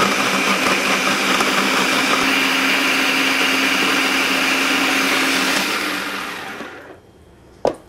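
A blender runs loud and steady, pureeing ingredients for an Asian sweet chili sauce, then winds down and stops near the end, followed by a single short clunk.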